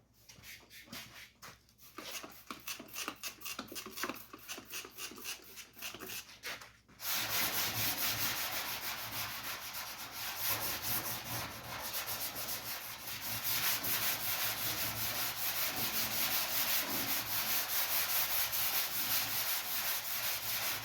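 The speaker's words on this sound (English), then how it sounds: "Nothing crazy here, just want to scuff it up." Steady, loud hand sanding scuffs the hood of a 1956 Chevy for a bodywork repair, a rapid back-and-forth rasp after a few quieter strokes that becomes continuous and dense for most of the stretch, with no talking.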